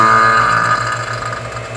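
Vacuum pump running during an HVAC system evacuation, a steady close mechanical hum with a fast pulsing low throb and a slight drop in level, no talking.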